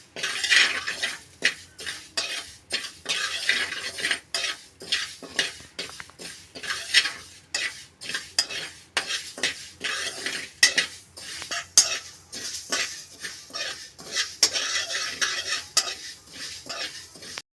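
Mustard and fenugreek seeds dry roasted in a pan over a low flame, stirred continuously, producing a dense rattling, scraping clatter of utensil on metal with steady rhythmic strokes, close and fairly loud.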